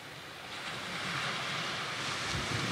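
Small ripples lap gently at an Atlantic shore, a soft, continuous wash that stays steady and fairly quiet, with some wind in the background.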